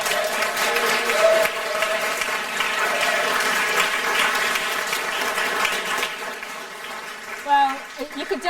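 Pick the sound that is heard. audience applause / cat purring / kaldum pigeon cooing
audience applause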